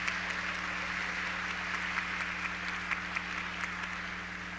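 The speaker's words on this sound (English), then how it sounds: "We show our thanks to Crave by our applause." Synod audience applauding the catering staff after lunch: steady, dense clapping from a large indoor crowd, sustained and even throughout, over a low electrical hum.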